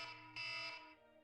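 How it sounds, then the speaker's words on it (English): A phone or clock alarm sounds faintly in a room, a brief electronic buzzing tone that swells louder for a moment and then fades, with no speech over it. "sorry, that was my alarm"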